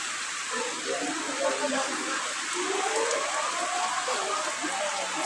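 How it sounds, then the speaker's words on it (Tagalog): Steady rain falls in a dense, even hiss at a rural home during a change in the weather, continuous and close throughout with no pauses. "Ulan gid siya, ulan."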